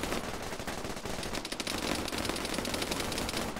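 Dense automatic gunfire during a competitive shooter match, a loud, unbroken rattle of rapid shots throughout with no pauses.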